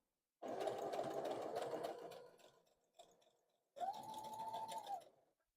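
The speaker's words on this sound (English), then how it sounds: "So I'm just like pulling this ever so slightly while I sew." A sewing machine runs stitching fabric for a dress made from upcycled jeans, with one long burst, a brief blip, then a second steady run, close and loud with no talk.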